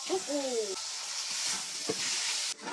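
Shrimp hit a hot frying pan while chop suey cooks with chicken and liver, giving a steady, close, hissing sizzle. A brief squeaky tone sounds at the start, and a faint stirring scrape comes partway through.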